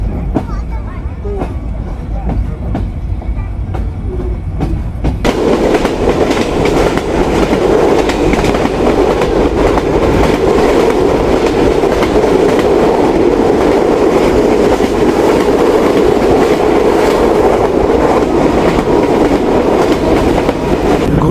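The Rupsha Express from Khulna runs along the tracks with a loud, continuous roar and rhythmic clickety-clack of wheels, growing fuller after the first few seconds, with no talk over it.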